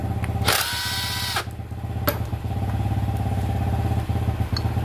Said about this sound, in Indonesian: Kita buka untuk baut kampas kopling.